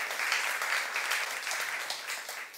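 A church youth congregation applauds during a sermon, a steady, dense wash of many hands clapping together, fairly close and even throughout with no voices over it.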